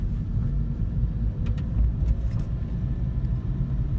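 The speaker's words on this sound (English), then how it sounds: "Driving through Palo Alto Hills." Inside a car driving through the Palo Alto Hills, a steady low road rumble and engine drone fills the cabin, with a few light rattles and clinks near the middle.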